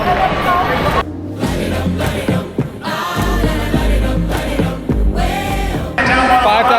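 Large stadium crowd at the 2023 World Athletics Championships in Budapest during Armando Duplantis's medal ceremony: a loud, sustained swell of cheering and roaring with tonal, music-like layers, rising and falling over the whole span.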